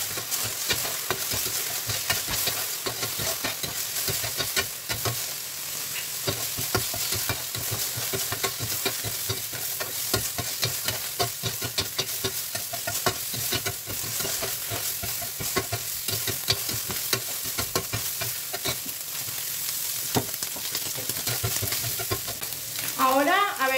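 Food sautéing in oil over high heat in a pan gives a steady, dense sizzle that carries throughout, with faint scraping of stirring mixed in and no talking.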